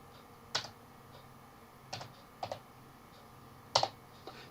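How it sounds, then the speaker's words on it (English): A computer keyboard is tapped while entering an equation, giving a handful of sparse, isolated clicks spread over a few seconds, quiet and close against a faint background hum. "I'm going to hit tab and type in an equation, y equals 16."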